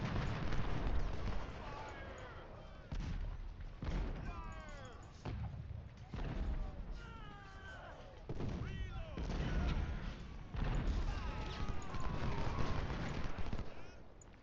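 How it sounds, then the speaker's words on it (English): Artillery barrages and musket fire roll across a Civil War battlefield in Ultimate General: Civil War at Malvern Hill, with repeated low booms and crackling volleys running continuously under talk. "Bring in the artillery."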